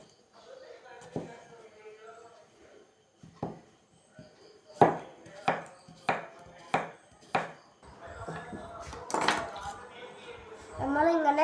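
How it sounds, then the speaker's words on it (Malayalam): A knife chops vegetables such as carrot and tomato on a board, with a short burst of evenly spaced, sharp cuts mid-clip and scattered knocks and clinks around them, while a person talks. "ഇനി നമുക്ക് ആദ്യം ഇതെല്ലാം അരിഞ്ഞെടുക്കാം."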